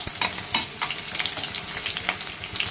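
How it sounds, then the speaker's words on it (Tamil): Crushed garlic and green chillies fry in a pan for a chicken fry, sizzling steadily up close with scattered crackles and stirring scrapes. "சிக்கன் ஃப்ரைக்கு வந்து பூண்டு அப்படியே இடிச்சு போட்டுட்டேன்"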